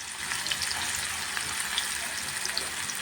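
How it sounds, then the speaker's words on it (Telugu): Onions and green chillies frying in hot oil for a gongura mutton curry give a steady, close, crackling sizzle with small pops throughout, and no voices. "ఆయిల్ అయితే వేడెక్కిందండి ఉల్లిపాయ పచ్చిమిరపకాయలు వేసుకుని ఫ్రై చేసుకుందాం"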